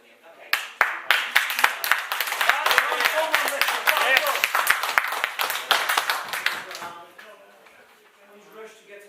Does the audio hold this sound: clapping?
yes